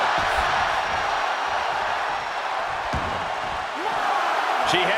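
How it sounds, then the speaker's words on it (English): Raucous wrestling arena crowd: a loud, dense roar of a packed audience continues throughout, with scattered shouts and a thud or two from the ring. "What a raucous crowd here tonight"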